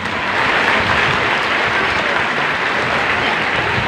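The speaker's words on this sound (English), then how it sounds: "A big round of applause." Steady, loud applause from a large crowd at a Bulua Central School closing exercise for 700 graduates, sustained evenly throughout with no break.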